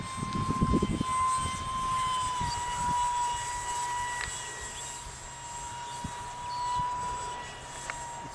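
An AEO 8-blade 40mm EDF fan model jet flies overhead with a thin, steady high-pitched whine that rises and falls slightly, after a brief burst of close rustling at the start and faint clicks.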